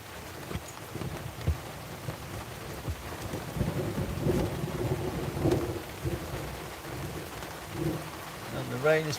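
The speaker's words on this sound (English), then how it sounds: "And the rain is proper coming down." Heavy rain pours steadily during a thunderstorm, a dense broadband wash with low rumbles rolling underneath, close and continuous.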